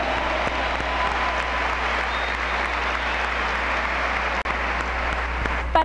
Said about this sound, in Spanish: Un aplauso para el grupo Carey.